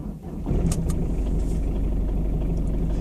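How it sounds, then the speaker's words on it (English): A Citroen XM diesel engine cranks and fires after glow-plug warm-up, then settles into a steady, loud, rough agricultural idle rumble close by. "it isn't the smoothest of diesel engines"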